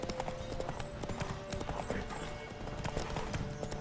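Galloping horse hooves pound in a fast, steady clip-clop rhythm during horse riding in The Witcher 3 video game, loud and close, with game sounds and a voice now and then over the hoofbeats.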